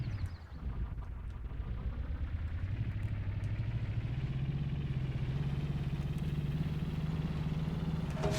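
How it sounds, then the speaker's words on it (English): A simple player-built vehicle in Scrap Mechanic drives along, its engine giving a steady, droning low hum. The hum holds at a constant loud level, with faint clatter over it. "Let's take a quick ride around."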